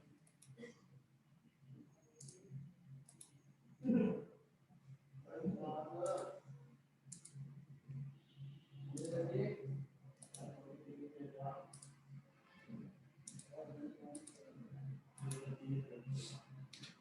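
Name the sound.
computer mouse clicking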